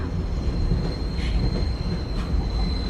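Train rolling along the rails, with a steady low rumble and a thin, high wheel squeal running through it, heard from on board without talk.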